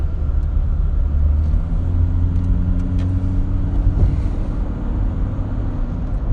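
Interior of a car driving home through traffic: a steady low engine and road rumble with a few faint engine tones rising and falling, constant throughout.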